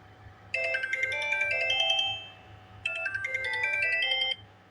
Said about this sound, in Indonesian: untuk di ringtone Sony Ericsson-nya sih seperti itu aja